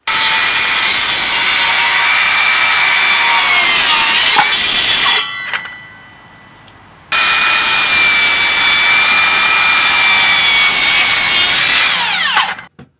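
A Makita 36V cordless saw cutting through wood, a loud, close, sustained high-pitched whine with rasping blade noise, a short pause where the motor drops away partway through, then a second long cut that winds down at the end.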